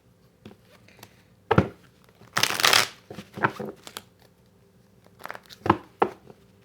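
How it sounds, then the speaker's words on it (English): Tarot cards are shuffled and handled at close range in several separate bursts of crisp riffling and flicking, with quiet pauses between them and a longer, louder riffle near the start. "I'm going to just throw a couple cards on this"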